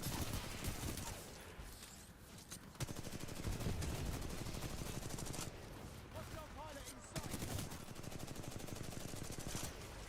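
Rapid automatic gunfire in the shooter game Titanfall 2, with sustained bursts of dense, evenly spaced shots that break off briefly and then resume.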